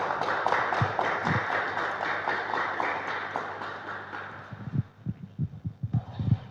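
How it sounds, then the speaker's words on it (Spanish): An audience applauds to welcome a speaker at a talk on family and human dignity, a dense sustained clapping that fades out after about four seconds, followed by a few separate louder thumps. "Un aplauso, por favor, para recibir a Edgar Calderón."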